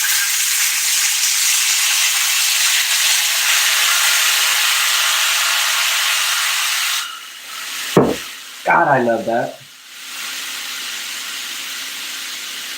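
Apple cider vinegar poured into a hot pan to deglaze pork, giving a loud, steady broadband sizzle that runs for several seconds, then cuts off sharply, followed by a brief spoken reaction and a softer sizzle returning.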